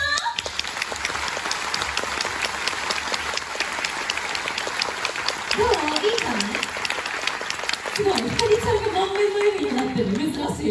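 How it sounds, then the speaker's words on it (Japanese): Crowd at a pro wrestling idol event claps energetically in a fast, continuous patter, while someone speaks through the second half over the ongoing applause. "もう一回、めっちゃ全力の拍手"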